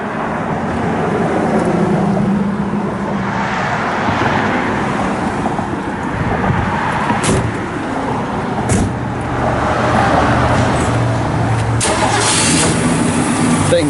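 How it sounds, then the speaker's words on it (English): A 1967 Ford Fairlane XL with a 4-speed fires up and settles into a steady, smooth idle, heard close and continuous with faint road traffic in the background. "Thing fires right off, purrs like a kitten."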